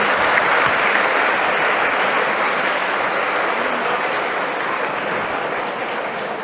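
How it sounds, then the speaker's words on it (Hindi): An audience claps steadily at a school road safety awareness program, dense and sustained applause filling the space before easing slightly toward the end. "ये फालतू वाली ताली क्यों?"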